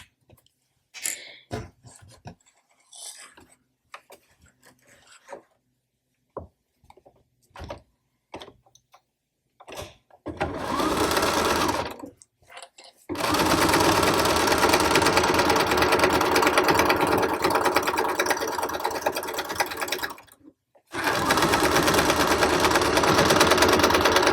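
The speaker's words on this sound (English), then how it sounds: "And now I'm just going to sew down my sides." Sewing machine stitching down the sides of a bag, heard first as scattered ticks and handling clicks, then as sustained fast whirring runs with a brief stop between them, loud and close.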